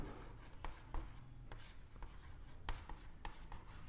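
Pen or pencil writing trigonometry on paper, steady scratchy strokes with rhythmic taps as each symbol is formed, close and continuous without talk.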